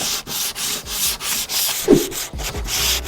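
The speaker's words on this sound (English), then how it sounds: "I'm going to use a bit of 180 grit sandpaper just to make it that little bit smoother" A plywood edge is sanded by hand with 180 grit sandpaper, producing close, rhythmic back-and-forth rasping strokes with brief pauses between passes.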